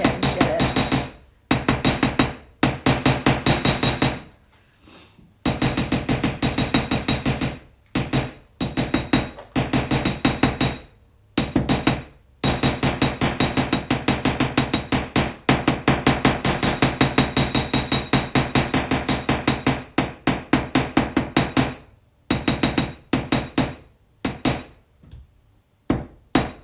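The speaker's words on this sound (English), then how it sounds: "Hammering" Loud, rapid hammer blows ring out in long runs of steady strikes, broken by short pauses, close by and continuing for nearly half a minute with a slight metallic clink.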